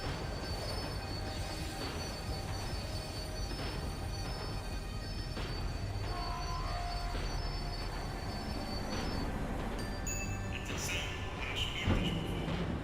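A tram in Max Payne 3 slows down, its wheels squealing in high metallic tones over a steady rail rumble, with sharper squeals near the end.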